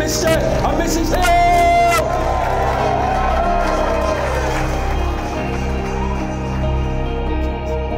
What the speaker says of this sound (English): one last massive cheer, the new Mr. and Mrs. Hill!